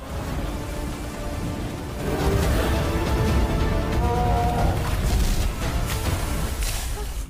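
Rain summoned by a character in a fantasy action film falls as a dense, steady hiss that swells louder midway, with faint rumbling underneath and no speech.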